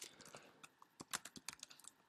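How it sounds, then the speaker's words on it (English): Typing on a computer keyboard during a programming session: a fast, uneven run of crisp key clicks, close and clear, with no talking. "So I'm just going to type this all out here."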